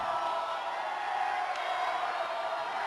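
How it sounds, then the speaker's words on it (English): A high school boys basketball crowd at Denver South versus Denver East jeering, a dense sustained roar of many voices with whoops and yells in a gym. "Threw up the air ball, and the South crowd is letting him hear about it."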